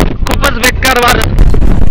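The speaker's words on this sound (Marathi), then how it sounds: "खूपच बेकार वारं" Strong wind on Kalsubai peak, Maharashtra's highest summit, in rain and fog: a loud, constant roaring buffet against the microphone, with a person talking over it.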